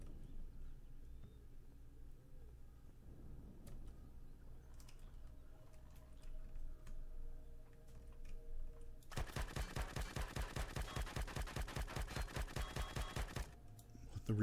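Gunfire in Empyrion Alpha 10 breaks out after a quiet stretch as a rapid burst of evenly spaced automatic shots lasting several seconds, loud and close against faint game ambience.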